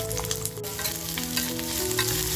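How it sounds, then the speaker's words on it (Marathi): Chopped onion frying in oil for a spicy village-style mutton rassa gives a steady close sizzle and crackle throughout, with a faint sustained tonal hum underneath and no talking. "आपण जो कांदा कापून घेतलाय तो कांदा तेलात टाकूया अगोदर."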